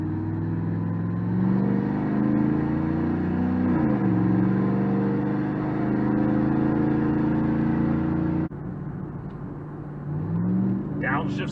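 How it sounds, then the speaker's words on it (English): A loud, rumbling supercharged Cadillac Escalade engine with its exhaust cutout open drones and climbs in pitch, shifts, then settles into a deeper growl before revving again. A voice briefly speaks near the end. "Got the cutout open for maximum noise at the moment."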